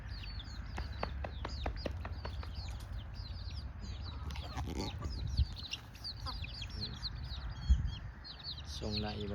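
Chickens of a Thai-Lao decoy fighting breed at a village farm cluck and crow repeatedly with bird chirps around them, while a voice nearby imitates the clucking and people talk intermittently.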